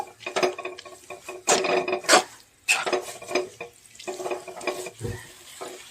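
Chicken curry masala with pepper powder sautéing in a pan, stirred briskly: repeated close scraping and clattering strokes over a light frying sizzle, in uneven bursts, with no talk.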